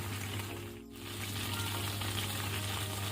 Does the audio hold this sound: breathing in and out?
no